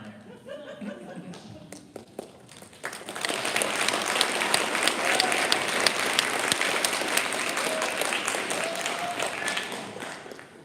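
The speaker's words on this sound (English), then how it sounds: "Can we get a round of applause for Mr. Lasisko?" Audience applause at a school FBLA end-of-year banquet. Scattered claps and murmurs start it off, then a full, sustained round of clapping fills the room.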